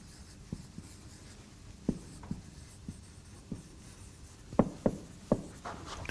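Chalk tapping and scratching on a board during a lecture on logic formulas, a run of close, sharp taps and short strokes in an uneven rhythm over a faint room hum, with no speech.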